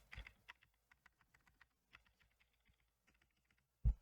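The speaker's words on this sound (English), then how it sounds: "Let's spam some stabilized keys." Stabilized keys on an Akko 3061S R2 Tokyo World Tour mechanical keyboard with factory lube are pressed in a quick, uneven run of soft, close clacks. One heavier thud lands near the end, in an otherwise quiet room.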